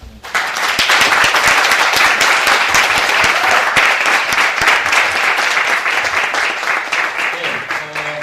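An audience at a lecture criticizing the Korea-US FTA applauds the speaking pastor, sustained, loud and steady clapping from a large crowd for several seconds before fading slightly.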